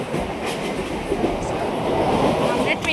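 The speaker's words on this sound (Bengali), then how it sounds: "আমরা ট্রেনে উঠে গেছি অলরেডি, বিধাননগর থেকে কল্যাণী বিমানবন্দর ট্রেন ধরে।" Passenger train running from Bidhannagar toward Kalyani, heard from inside a carriage: a steady, loud rumble and rattle of wheels on track, fairly constant throughout with a brief rise near the end.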